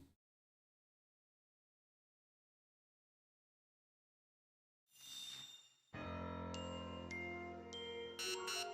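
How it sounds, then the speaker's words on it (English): Low-health warning beeps in Pokemon Legends: Z-A start after a long stretch of silence, with bright repeated electronic tones layered over loud game music and effects. "You're gonna hear the aggressive beeps."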